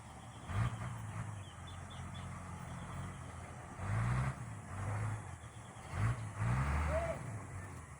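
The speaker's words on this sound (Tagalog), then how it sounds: "Yan, dalawang truck po yan." Two trucks maneuvering outdoors, heavy engines rumbling and revving in repeated surges with a brief air-brake hiss and faint birds in the background.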